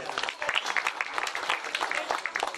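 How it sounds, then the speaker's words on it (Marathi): Applause and crowd noise at a Ganesh Mandal gathering, a dense continuous patter of clapping filling the whole stretch at moderate volume, with no clear talk over it. "त्या महिलांसाठी जोरदार टाळ्या होत्या"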